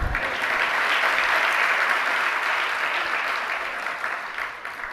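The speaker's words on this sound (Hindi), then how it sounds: "आप भी ताली बजा करके भक्ति तो करते हैं।" Dense, sustained clapping rolls through an audience at a Jain religious discourse by Vidhya Sagar Ji Maharaj, loud and continuous for most of the span before easing off a little toward the close.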